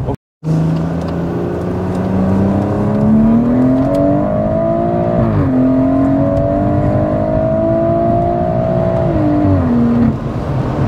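A heavily customised Stage 2 BMW M140i revs up strongly and holds a loud, rising engine drone close by, with a brief dip and climb before easing off near the end; no talk.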